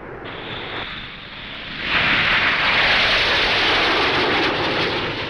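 Red Arrows Gnat trainer jets with Orpheus engines flying in formation: a broad, loud jet roar that swells and intensifies partway through, then holds steady as the aircraft pass close by, with no voices.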